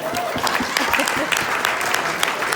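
An audience claps steadily and densely at an El Paso Veg Society lecture right after a group exercise, filling the room with sustained, close applause and no pauses.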